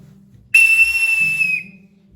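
An antique tin binocular toy whistle blows one loud, steady, shrill tone with a paired harmonic, held for about a second, with low background rumble around it.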